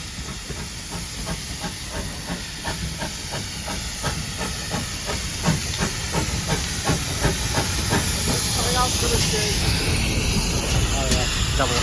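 Steam trains of the West Somerset Railway, including a double-headed working with a pannier tank locomotive, hiss steadily at a station, a loud, continuous broad rush with faint rhythmic clanking beneath and some voices nearby.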